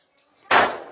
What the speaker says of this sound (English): every time he pops off, the door just say ring, like the bullets tickle